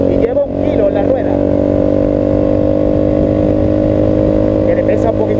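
VOGE 300 Rally motorcycle engine cruising in sixth gear at about 100 km/h and 6,000 rpm, a steady loud droning hum with wind noise, while a rider talks over it.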